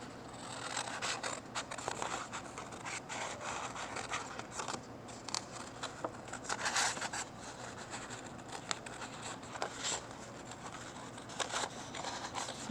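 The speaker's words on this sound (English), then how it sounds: "everybody is going to get a scissors and we're going to cut our pumpkins out" Scissors snipping and rasping through paper close by, cutting out paper pumpkins, a steady series of scratchy cuts and rustles with brief pauses, no voices.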